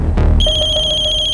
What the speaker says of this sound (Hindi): नल्ले का नाम लिया और उसका फोन भी हाजिर है